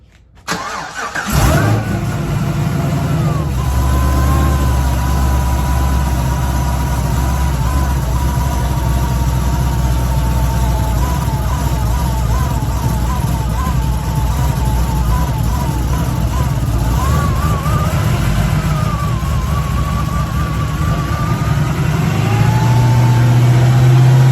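A Cadillac CTS-V with a newly installed Kong Performance LSA supercharger cranks and fires, then settles into a loud, close, rumbling idle with blower whine and a few throttle blips, running continuously throughout.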